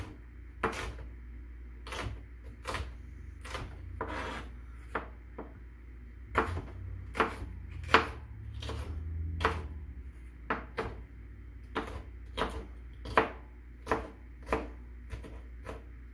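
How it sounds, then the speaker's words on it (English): A big kitchen knife chops green peppers on a cutting board, producing a series of sharp, irregular, close-up thunks spaced about a second apart, with quiet pauses between clusters of cuts. "I use a much too big of a knife to chop up vegetables"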